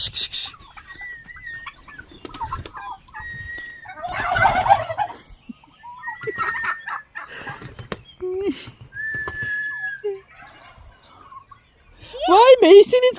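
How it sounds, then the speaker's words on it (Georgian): Turkeys on a farm gobble in reply to a call, several bursts of rapid gobbling and clucking spread through the clip, some near and some farther off, with a voice calling and talking in between. "ვაიმე, ისინიც გამოგეპასუხეს, სხვა ინდაურები."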